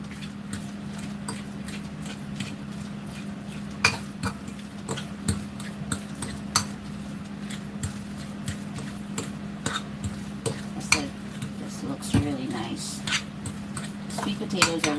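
A fork taps and scrapes against a bowl while mixing dressing into a potato salad, irregular light clinks over a steady low hum, with someone talking throughout.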